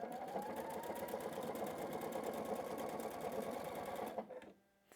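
A sewing machine stitches fabric at a fast, even rhythm, running steadily up close before stopping abruptly near the end; no talk.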